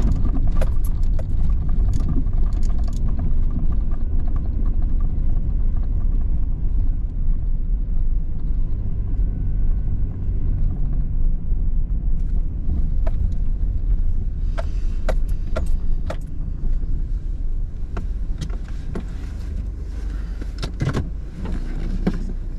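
A car drives along a road toward the North Morrill slate quarry, a steady, loud in-cabin engine and road rumble with occasional small clicks and knocks, continuous throughout.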